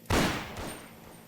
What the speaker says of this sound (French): Coup de feu.